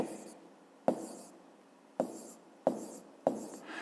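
Numbers are written on paper with a pen, heard as four sharp taps about every second, each trailing into a short soft scratch, close and quiet with no speech.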